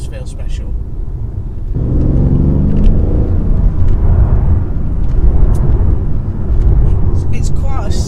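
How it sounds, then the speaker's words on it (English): Mercedes-Benz CLS 63 AMG V8 engine gives a low, steady burble that swells slightly as it pulls, heard close beneath someone talking. "It's quite a civilised V8 burble in comparison to some of the other V8s I've driven recently."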